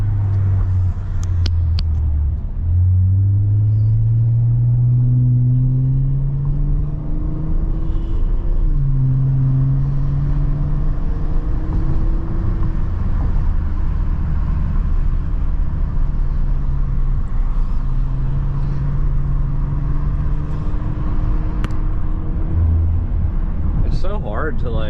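Honda Accord V6 pulling hard on a highway, heard from inside the car: a loud engine drone that climbs in pitch through each gear, drops at the shifts, then climbs again over steady road rumble.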